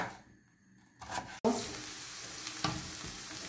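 Onions frying in a pan give a steady broadband sizzle after a brief quieter start, with a few faint scrapes and clicks mixed in, close by and without talk.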